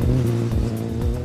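A racing car engine revving, a loud, close, throaty roar with rising and falling pitch sweeps in quick succession.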